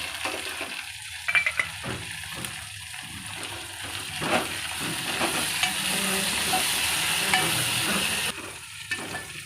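Mutton gongura curry with coriander fries and sizzles in a pan while being stirred, with a steady crackling hiss and intermittent scraping stirs up close.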